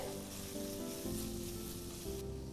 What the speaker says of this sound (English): add the ginger garlic give it a mix, fry for about a minute and add the ground powder